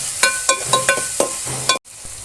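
Two chopped tomatoes sautéing in a pan for a chicken kadai, with a steady sizzle broken by repeated sharp scrapes of a spatula, then a sudden cut to near silence and a faint tap.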